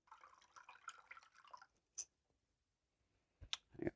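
Treated brewing water is drained from an electric brew-in-a-bag kettle, first as a brief soft trickle and then as a few sharp drips and clicks after a pause, all quiet and close.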